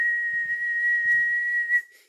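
A person whistles a single steady, sustained high tone for about two seconds to call a cat back indoors, loud and close with no talking.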